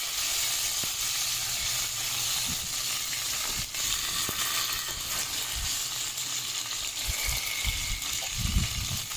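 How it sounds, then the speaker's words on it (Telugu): Curry leaves hit hot oil for a cauliflower and potato curry, giving a loud, continuous close sizzle with scattered sharp pops and crackles, plus a few stirring knocks toward the end. "ఇప్పుడు అలా కరివేపాకు వేసుకుంటే అది పటపట పటపట పడుతుంది"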